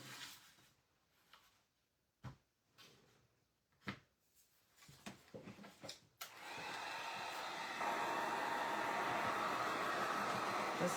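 A hair dryer runs over a paint transfer on a wood block, switching on after a few scattered handling knocks and then blowing steadily with a loud, constant rush to the end.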